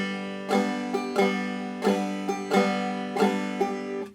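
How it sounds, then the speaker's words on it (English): Clawhammer banjo bump ditty pattern in swung eighth notes, lilting uneven plucks and brushed strums repeating in a loping rhythm, close and clear with no talk. "This song has swing 8th notes, so it sounds like this."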